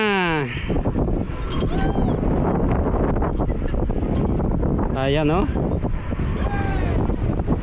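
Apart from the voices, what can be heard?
strong wind on a ride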